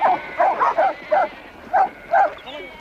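Several sharp barks from sheepdogs herding sheep in hot, dusty yards ring out in an uneven series, fairly close and loud, with short pauses between them.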